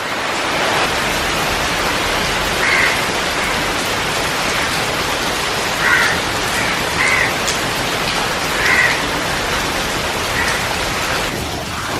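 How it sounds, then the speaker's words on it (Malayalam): Heavy rain pours down in a dense, steady hiss that fills the whole stretch, with a few faint, brief calls rising above the downpour. "മഴയുടെ ശബ്ദം കേൾക്കണില്ലേ?"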